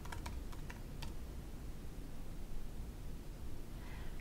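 Fingers tap out a password on a computer keyboard in a short burst of crisp keystrokes, followed by a steady low hiss of room noise.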